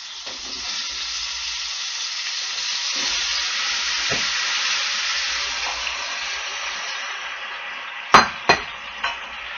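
Potatoes and garlic sizzle loudly in hot olive oil, a steady bright frying hiss that swells, followed by three sharp knocks of a utensil against the pan near the end.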